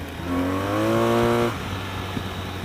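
A 2016 BMW R 1200 RT motorcycle engine holds a high steady rev around 7,000 RPM with the clutch slipping, a loud sustained tonal drone for about a second and a half before dropping back to idle.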